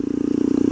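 A Skyteam PBR motorcycle with a carbon exhaust and a serious engine fault circles a parking lot, its engine thrumming in a fast, steady pulsing beat close by.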